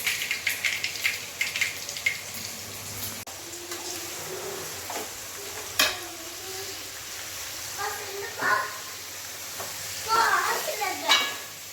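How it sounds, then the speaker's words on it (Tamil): Eggplant, young tender brinjal, frying in oil in a pan with a steady soft sizzle and occasional stirring scrapes, with birds cooing and chirping nearby. "கத்திரிக்காய் நல்லா எண்ணெயிலே வதங்கிடுச்சு"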